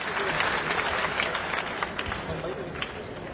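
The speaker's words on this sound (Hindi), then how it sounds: "जोरदार ताली बजा करके आप लोगों का स्वागत करिए।" Dense, steady applause from a large crowd at a political party gathering in Talkatora Stadium, New Delhi, sustained throughout with a few louder claps standing out, heard from within the audience.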